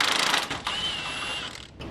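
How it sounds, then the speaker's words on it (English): A ratchet fitted with a 13 mm socket removes a bracket while a 2014–2018 Silverado truck lift is installed, giving close, steady mechanical clicking and grinding over about two seconds with no voices. "remove it with a 13 millimeter socket"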